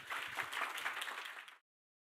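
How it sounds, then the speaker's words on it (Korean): Applause from an audience at a university forum as a middle-school student is welcomed to the stage, a dense wash of clapping lasting about a second and a half before cutting off abruptly. "큰 박수로 맞이해 주시기 바랍니다"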